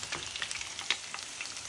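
Chicken fries in hot oil with a continuous crackling sizzle and scattered sharp pops, fairly close and moderately loud, with no voices.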